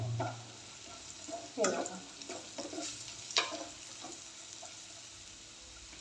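Potatoes with spices are stirred in a hot pan with a faint sizzle under scattered scraping and clinking of the spoon, a few louder scrapes standing out.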